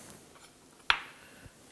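A can of condensed milk being opened: a single sharp metallic crack or pop, with a faint click shortly after, in an otherwise quiet kitchen.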